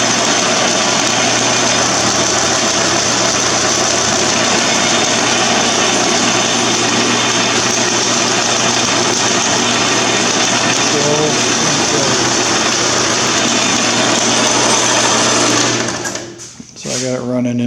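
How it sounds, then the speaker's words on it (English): A rebuilt Logan metal lathe runs on its high-speed V-belt setting with new bearings and bushings, a loud steady whine and hum that holds constant and then winds down near the end. "So I got it running in, it's on the high speed of the V-belts."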